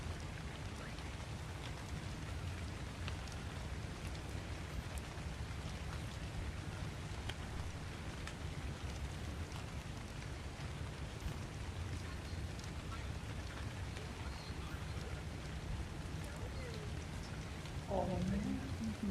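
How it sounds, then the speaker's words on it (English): Rain falling in the video game Dune Awakening, a steady even hiss of downpour throughout, with brief speech near the end. "It's also raining."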